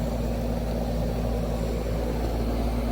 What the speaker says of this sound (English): Sorry about that noise, that's our AC unit.